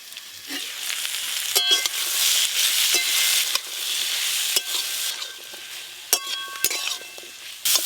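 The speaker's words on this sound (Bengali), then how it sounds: "সবজিগুলো খুব ভালো করে ভেজে নিয়েছি" Mixed vegetables fry and sizzle in a pan on a village clay stove, a loud steady hiss broken by scrapes and clinks of the stirring utensil, with no one speaking.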